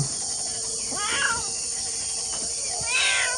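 A cat meows at a garden hut, two drawn-out calls about two seconds apart, close by over a loud steady chorus of insects.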